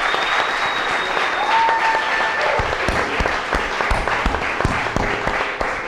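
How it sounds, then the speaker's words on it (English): An audience at a chef cooking competition bursts into sustained, loud clapping and applause, filling the room for several seconds with dense, continuous handclaps. "Give them a big round of applause"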